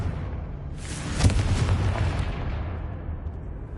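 A Confringo blasting spell explodes in Hogwarts Legacy, a single deep boom with a bright crackling burst that rolls into a long, fading rumble.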